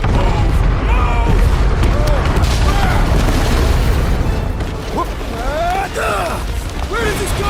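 Set charges blowing up in the Guardians of the Galaxy video game: sustained heavy booming rumble with debris and mechanical clatter, loud and continuous, with character voices talking over it.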